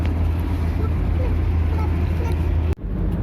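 Automatic car with the lever in D climbing a steep hill and shifting into third gear, a steady low engine drone with a constant rumble of road and wind noise inside the cabin and a short dip near the end.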